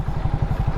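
Hero Splendor iSmart i3s motorcycle idling close by, a steady low engine putter with an even, pulsing rhythm and no voices.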